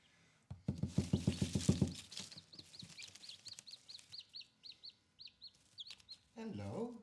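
Backyard chickens cluck in a quick run of loud pulses, followed by a string of short, high peeping calls, all fairly close, with a brief burst of louder activity at the end.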